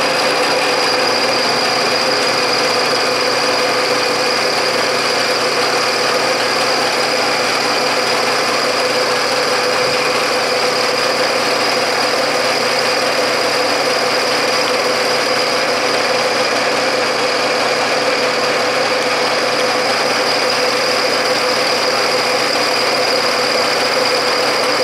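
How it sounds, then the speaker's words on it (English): A Bridgeport milling machine with a VEVOR power feed cuts cold rolled steel at 50 thousandths depth with oil applied, a loud continuous droning motor and cutting whine that holds steady throughout. "Let's take a couple cuts like I did in the other video on some steel."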